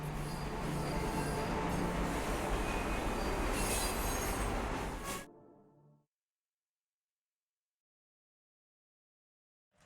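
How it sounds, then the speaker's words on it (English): A train in the game Luna Abyss rumbles along its rails with squealing wheels for about five seconds, loud and steady, then cuts off into silence as it reaches the end of the line. "We have reached the end of the line where this train will terminate."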